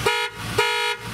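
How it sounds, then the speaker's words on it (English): An Aston Martin Lagonda's normal car horn gives two short, loud, bright honks in quick succession, each held briefly before cutting off. "The car has a normal horn."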